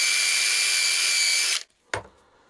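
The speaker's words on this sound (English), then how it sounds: "You gotta watch these wire brush things, they're extremely dangerous." A power drill fitted with a wire wheel brushes surface rust off the sheet metal of a Diacro finger brake, a loud, steady high-pitched whirring grind that cuts off abruptly, followed by a short sharp clatter.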